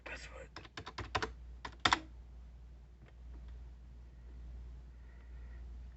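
A quick burst of close clicking keystrokes on a 2008 MacBook keyboard as a password is typed, then a pause with faint background hum.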